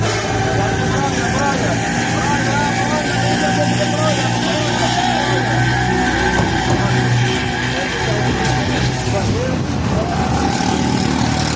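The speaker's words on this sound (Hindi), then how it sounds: "न्यू सुबान ये गाड़ी यहाँ से निकल गई है" A cargo vehicle carrying goats pulls away near a Faisalabad goods yard in Pakistan, its engine rumbling loudly and steadily with shifting drone, with voices and street commotion around it.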